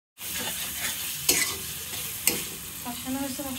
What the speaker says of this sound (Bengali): কষানো হয়েছে মশলাটা, একটু পানি দিয়ে দিব।